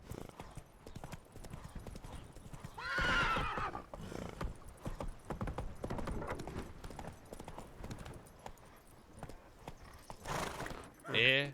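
Roach the horse gallops in The Witcher 3 with a steady clip-clop of hooves and a couple of loud whinnies. Someone speaks at times over the hoofbeats.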